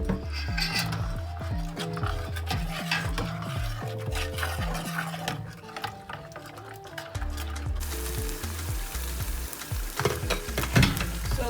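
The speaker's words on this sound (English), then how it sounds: "I just fried the tin tomatoes with palm oil, so I'm adding it now." Tinned tomatoes frying in palm oil for a fresh vegetable soup, a close continuous sizzle mixed with stirring and scraping of a utensil against the pot, with no talk.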